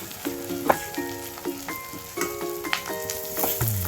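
Ivy gourd and green chillies sizzling in a pan as they are stirred, a soft continuous fry with scattered metallic scrapes and clinks, a tonal melody playing in the background.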